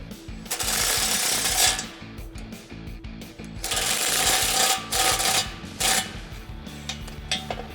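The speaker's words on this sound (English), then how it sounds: "you can take a 16mm wrench or socket to the bolt head and a 17mm wrench or socket to the nut" A wrench works the bolt and nut on a step bar bracket of a Jeep Wrangler JL 2-door, giving close, loud bursts of metallic ratcheting and grinding clicks separated by short pauses.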